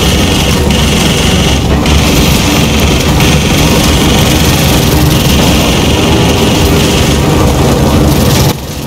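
Helicopter engines in the shooter game Gears of War 4, a loud dense roaring drone with steady low rumble and broadband whine, continuous throughout with brief dips near the end, no talking.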